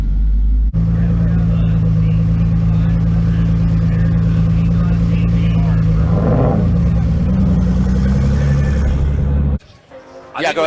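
Two drag cars, a brand new Ford GT500 and a Nissan GTR, rumble loudly at a spectator drag strip in a first-round pairing, engines droning steadily with a swell of revving midway before cutting off near the end, with talk over the noise.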